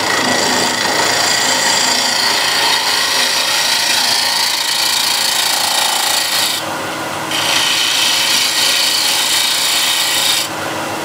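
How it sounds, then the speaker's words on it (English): A spindle gouge trues up the top of a spinning wood piece on a lathe, giving a loud continuous rasping cut that breaks briefly twice as the tool lifts. "you want to true up the top here, and I can use a spindle gouge"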